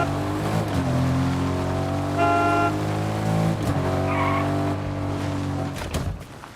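A car in Fortnite drives with a steady engine drone, then skids with squealing tires and rising tonal whines, the motor sound staying loud and close before easing off near the end.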